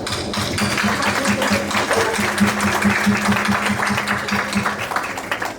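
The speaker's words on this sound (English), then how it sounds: "So I want to give them an applause" Seminar audience at a maritime women's event claps, a loud, sustained patter of many hands with a steady rhythmic thumping underneath, continuing to the end with little speech.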